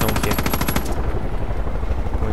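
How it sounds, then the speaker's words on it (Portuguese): Machine gun fire in the video game Far Cry 5, a loud, rapid burst of close shots that stops after about a second, leaving a low rumbling game ambience with no voices. "Tô usando aqui a metralhadora"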